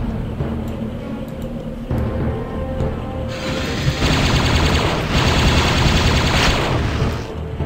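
Rapid, dense gunfire from a weapon in the first Quake video game, continuous and loud for several seconds with a rising, crackling intensity and no talk over it.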